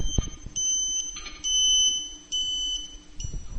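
Alignment beeper of a Tooway SurfBeam2 satellite dish installation giving shrill electronic beeps in short bursts separated by brief gaps, close and clear against a quiet room.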